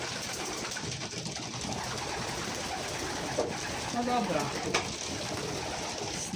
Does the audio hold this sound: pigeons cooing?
yes